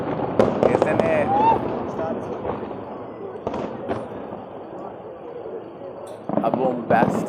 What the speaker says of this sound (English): A bombastic, fire-cracking start of the year 2023.